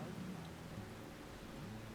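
Heavy rain falls near Iksan's Mireuksaji temple site during a rain warning, a dense steady hiss with low rumbling underneath and no distinct drops standing out.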